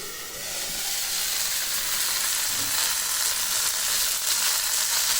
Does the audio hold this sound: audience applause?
no